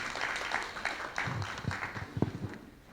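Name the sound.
crowd clapping in support of the movement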